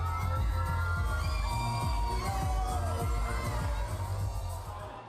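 A large crowd cheers and shouts steadily at an outdoor beauty pageant parade with a swimsuit round, children's voices and whoops rising over a continuous roar.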